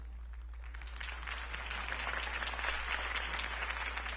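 Crowd applause following a campaign speech in the Batman Telltale Series video game, a dense clapping wash that swells slightly midway over a steady low hum.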